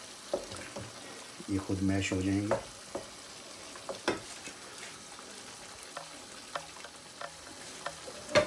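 Mashed roasted eggplant for the Iranian dish Mirza Qasmi fries quietly in a pan, giving a soft, steady sizzle with scattered small clicks and pops, while a voice briefly talks over it.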